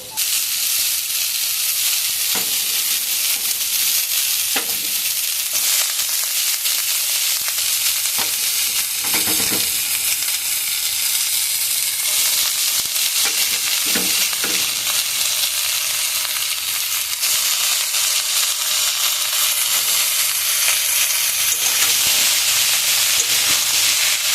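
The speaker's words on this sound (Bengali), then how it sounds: "আমাদের আলুটা লাল করে মোটামুটি ভাজা হয়ে গেছে এবার আমরা লাউটা দিয়ে দেবো" Potato pieces and bottle gourd fry in a pan with a constant loud sizzle and hiss, broken by scattered stirring knocks of a utensil against the pan, and no talking.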